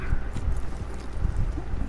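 Horse hooves clip-clop steadily in Red Dead Online, a dull, close, rhythmic thudding that continues throughout against a busy game background.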